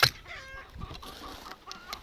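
Laying hens fed on a vitamin-rich mix of vegetable scraps cluck softly in short, repeated calls close by, with a few brief louder squawks.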